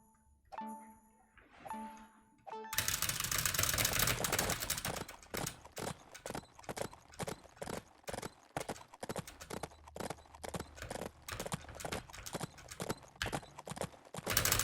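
Brief game music gives way to steady, rhythmic horse hoofbeats clip-clopping at a brisk trot in the mobile game Adventures with Horses, loud and close, continuing without pause.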